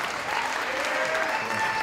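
The audience at a Dancing With The Stars of Auburn 2012 dance show bursts into loud, dense applause, a brief continuous wash of clapping heard on its own.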